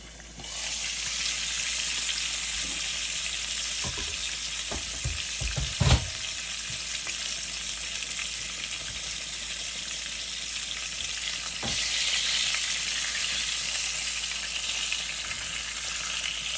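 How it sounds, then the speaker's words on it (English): Pork chops fry and brown in a pan with a steady, loud sizzle that fills the whole stretch, broken by a few brief clatters and bumps near the middle. "I'm gonna give these a couple of minutes to brown, and then I'll turn them over"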